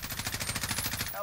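A rapid, steady burst of automatic gunfire in Call of Duty: Warzone, evenly spaced shots rattling for about a second at moderate level.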